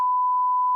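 A single steady electronic beep, a pure tone held for under a second, clean and fairly loud with nothing else around it.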